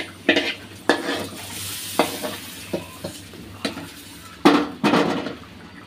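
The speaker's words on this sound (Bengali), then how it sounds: "পেঁয়াজ হালকা তেলের উপরে বেরেস্তা করে উপরে" Onions fry in a little oil in a pan, with a soft sizzle beneath a series of sharp clinks and scrapes from a utensil stirring against the pan, close and fairly loud.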